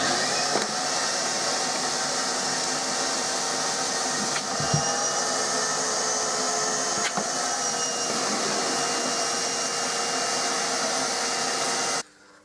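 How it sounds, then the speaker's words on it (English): Workshop dust extraction system pulling suction through a blast gate, a loud steady roaring whoosh of airflow with a couple of brief knocks, cutting off abruptly near the end. "I've put a load of dust on the worktop, and I'll show the suction changing now."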